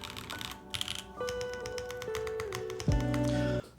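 Someone types steadily on a modded Tsukiyomi65 mechanical keyboard, producing a dense run of crisp, close keystrokes. A faint steady tone hums underneath the clatter.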